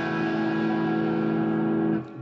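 Guitar chords from a song ring out as a single sustained strum, steady and full before fading at the end, with no talking.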